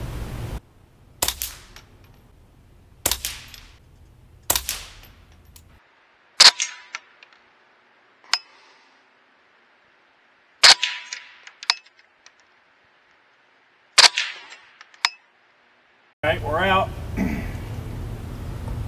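A series of sharp, quiet cracks from a .22 rifle suppressed by a SilencerCo Warlock II, spaced a few seconds apart, with mechanical clicks from feeding failures between some shots and a short burst of noise at the end.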